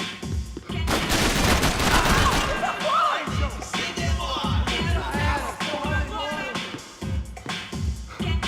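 Dense, continuous gunfire from the video game Max Payne 3, rapid bursts overlapping with music and game effects, loud and close throughout.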